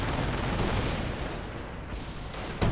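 Mortar fire in a World War II strategy video game, heard as a dense, continuous rumble of distant blasts that holds steady and then ends in a sharper crack near the end, with no voices.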